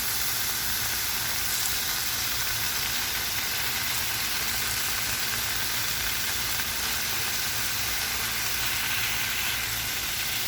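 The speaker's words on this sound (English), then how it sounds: "I am going to just add that to the skillet" Barbecue sauce sizzles steadily in a hot skillet, a continuous hiss and crackle of frying at moderate level with no voices over it.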